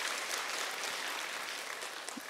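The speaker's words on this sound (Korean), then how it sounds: "이제 박수 치셔도 됩니다." A church congregation claps steadily, a dense and even patter of many hands that continues throughout at a moderate distance.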